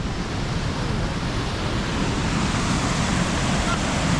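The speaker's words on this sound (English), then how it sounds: "You like the waterfalls?" A waterfall in northern Wisconsin rushes in a steady, dense roar, loud and unbroken from start to finish with no pauses or distinct splashes.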